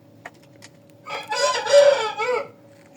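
A rooster crows once, loud and close, a drawn-out cock-a-doodle-doo preceded by a couple of faint clucks, over a low steady hum.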